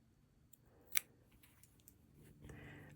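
Scissors trim fabric close to a stitched thread on a small sewing project, a few quiet snips with one sharper cut near the start, close and alone.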